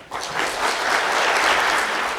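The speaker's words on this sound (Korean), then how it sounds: "여러분 계속해서 큰 박수 부탁드리겠습니다" Brief burst of dense audience applause at a business results-sharing event, many hands clapping together, loud and close, holding steady throughout.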